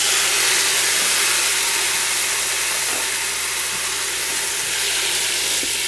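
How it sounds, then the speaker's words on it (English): Chopped tomatoes go into a hot Ninja Foodi cooking pot, bringing a steady, fairly loud hiss and sizzle that holds evenly throughout with no voices. "And now to this I'm going to add the tomatoes."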